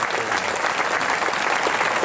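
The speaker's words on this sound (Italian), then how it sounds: "fare un grande applauso meritato a quel grande conduttore che rispondeva al nome di Gigi Sabbani" A theatre audience at an Italian comedy show breaks into dense, continuous applause, loud and close, with no voices over it.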